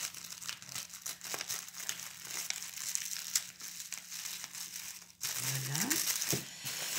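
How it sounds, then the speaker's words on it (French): Thin tissue paper wrapping crinkles and rustles close by in repeated bursts, with a brief tonal squeak near the end. "Elle a emballé, évidemment, dans du papier de soie"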